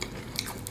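A single quick crunchy bite into crispy fried chicken skin, close and soft, with small crackling details over a quiet background.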